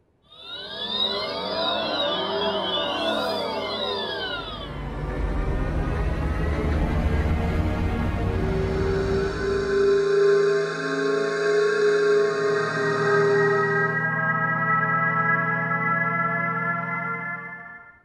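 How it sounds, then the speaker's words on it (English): A sequence of electric car acoustic pedestrian alert sound bites: a whirring, siren-like sweep gives way to low droning hums and then sustained layered synthetic tones, each one continuous and fairly loud. "Are you familiar with the acoustic alert for pedestrians?"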